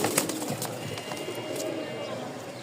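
Rajshahi giribaz flying pigeons, three pairs, give soft low cooing against a steady background hum, with a few faint clicks and rustles throughout.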